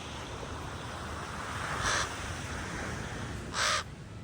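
A crow caws in downtown Santa Cruz, California, with two short harsh calls a couple of seconds apart over a constant wash of wind and surf-like background noise.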